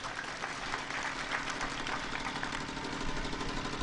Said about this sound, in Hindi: जरा तालियां बजा के स्वागत करो आप।